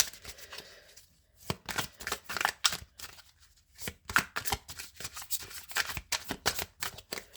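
Tarot cards shuffled by hand in close, crisp riffling bursts, several quick rounds separated by brief pauses, with no talking.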